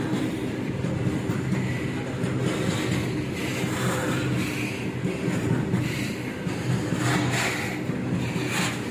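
Train at Balangir railway station, a loud, continuous rumbling roar of rolling carriages that holds steady for the whole stretch with faint rattling on top.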